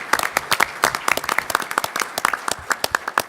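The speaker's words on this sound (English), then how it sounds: "Let's give them a round of applause." A conference audience at a grassroots panel breaks into brisk applause, many hands clapping close and dense for a few seconds with a faint voice underneath.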